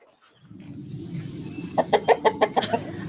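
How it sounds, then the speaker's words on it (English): Chickens cluck close by in a quick series of about eight rhythmic clucks over a low background rumble. No one speaks. "fed my chickens"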